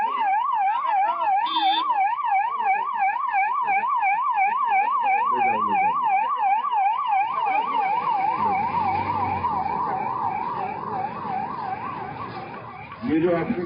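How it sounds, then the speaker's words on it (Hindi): An ambulance siren wails close by in a loud, rapidly rising and falling tone on a busy road, then fades as traffic rumble and engine noise take over, before a brief final burst at the end. "देखो एम्बुलेंस है क्या? अगर एम्बुलेंस है तो रास्ता दे दो बेटा।"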